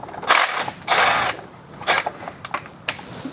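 Ratchet wrench backing out a 13mm bolt on a BMW N62 engine's alternator bracket, rapid clicking bursts of the pawl in short separate runs, close and fairly loud.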